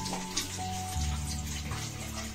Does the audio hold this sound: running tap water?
yes